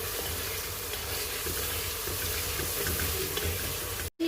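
Water poured into masala frying in a pan for an aloo baingan dish: a steady close hiss and sizzle with bubbling, loud and continuous, cut off abruptly at the end.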